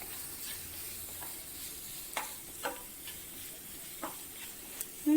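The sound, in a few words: sautéing spring onion in a pan for garlic chicken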